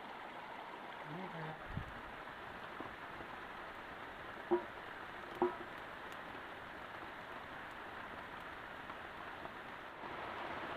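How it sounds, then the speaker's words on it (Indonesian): Heavy rain falls on a hut in a forest garden on a hillside, a dense steady hiss with a few louder drips or knocks partway through. "Ini kebetulan turun hujan nih teman-teman ya."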